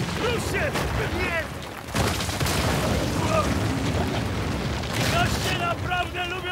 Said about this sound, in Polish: Goście naprawdę lubią eksplozje